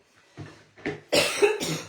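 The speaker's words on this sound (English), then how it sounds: "I'm so sorry for coughing." A few rough coughs close to the microphone, four bursts growing louder, with no talking.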